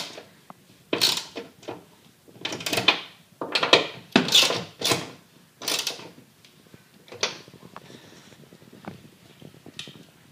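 Hood bolts on a 2012-or-later Ford Focus are tightened down by hand, producing irregular close bursts of ratcheting, creaking and metallic clinks separated by brief pauses, with no talking.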